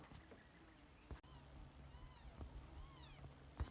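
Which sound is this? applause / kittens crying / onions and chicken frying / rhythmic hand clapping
kittens crying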